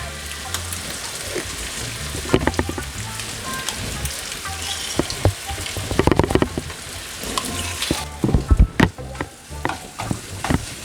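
Sizzling meat sauce in a pan with tomato paste being stirred in, a steady frying hiss under repeated scraping and clacking of the spoon, busier and louder toward the end.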